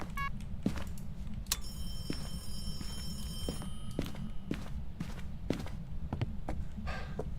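An in-game telephone rings in the horror game Phasmophobia, a short burst of electronic ringing tones over quiet footsteps and scattered clicks.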